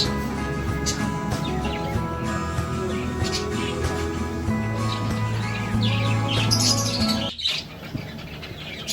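Birds in a park aviary at Thakurnagar Matribhumi Park chirp and squawk continuously at moderate loudness, a dense layer of overlapping calls that dips briefly near the end before resuming.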